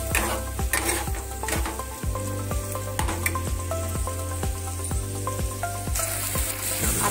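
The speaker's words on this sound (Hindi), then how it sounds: "इसको थोड़ा देर तक हम भूनेंगे।" Masala spices roast over high heat in a pan as a spoon stirs them, giving regular scraping strokes about every half second over a steady sizzle, close and clear, with no talking.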